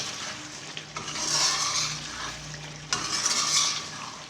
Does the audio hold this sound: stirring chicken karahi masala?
yes